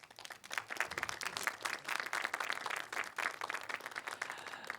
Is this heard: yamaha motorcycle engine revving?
no